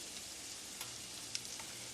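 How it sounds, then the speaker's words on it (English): Meat sautés in a pan during meal prep, giving a quiet, steady sizzle with a few faint crackles and pops and no talking. "we're sauteing"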